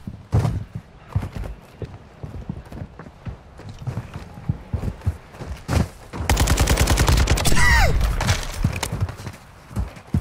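Video game gunfire in a free-for-all match, scattered shots early then a dense rapid automatic burst in the middle, loud and close, with a faint voice at moments.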